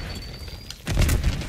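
A grenade blast in the video game Call of Duty Black Ops 6 on the Nuketown map: one heavy, deep boom erupts close and loud after a brief stretch of quieter in-game ambience.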